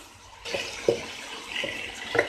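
Water poured into a pan of chicken keema curry, a close splashing pour that starts abruptly and continues with gurgles and spatters for about two seconds.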